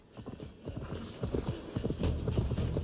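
Horse hooves clip-clop in Assassin's Creed Valhalla, a quick, uneven run of close hoofbeats that grows slightly louder and busier toward the end.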